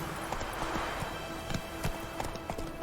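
Roach, a horse in The Witcher 3, clip-clops along at a steady trot, the hoofbeats crisp, close and evenly spaced throughout.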